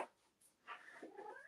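A pet cat named Nicky gives a faint, close, short meow-like vocalization that rises and falls in two brief parts against a quiet room.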